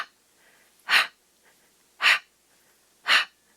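Three forceful exhalations through the mouth during a yoga breathing exercise, evenly spaced about a second apart, each a short sharp whoosh close to the microphone, with quiet pauses between.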